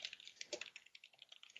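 Rapid, irregular clicks of a computer keyboard being typed on, crisp and fairly close, in quick uneven bursts with no voices over them.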